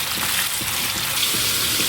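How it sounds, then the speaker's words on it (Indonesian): Half-cooked chicken pieces fry in hot oil with a steady, dense sizzle and bubbling that runs without a break at close range. "menggoreng ayamnya ini nggak perlu sampai matang, cukup setengah matang saja ya"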